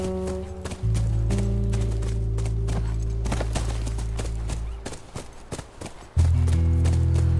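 In The Last of Us video game, a horse's hooves clop in a steady rapid rhythm, running as a galloping beat under sustained music drones that drop out briefly before returning.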